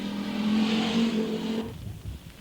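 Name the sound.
four-wheel drive rally car on a stage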